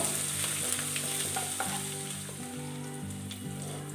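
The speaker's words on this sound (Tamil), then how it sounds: "ஒரு கொத்து கருவேப்பிலை இலையும் சேர்த்துட்டு இது லைட்டாக 1 நிமிஷம் போல் வதங்கட்டும்" Curry leaves sautéing in a hot pan for a spicy cauliflower pepper fry, giving a loud, dense crackling sizzle that eases slightly, with a few spoon taps and no talking.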